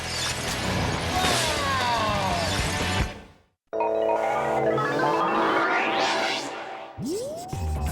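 Glass shattering during a car crash stunt test: two loud bursts of breaking and crashing debris separated by a brief silence, followed by a rising mechanical whine near the end.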